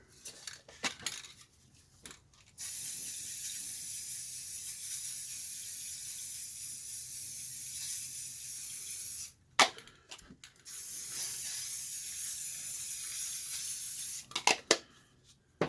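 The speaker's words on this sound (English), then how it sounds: "when I spray around it, you know, the force of the spray doesn't go under" A spray paint can hisses in two long, steady bursts while spraying around a round mask for a planet in spray paint art, with brief clicks and rattles before and between the bursts and no talking.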